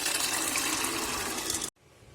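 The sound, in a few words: pouring chickpea cooking water into curry masala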